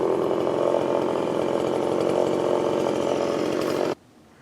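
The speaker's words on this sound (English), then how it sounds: "We got about all this wood with the battery chainsaw." A battery chainsaw whines steadily at high speed as it cuts firewood, loud and close, then cuts off abruptly into quiet.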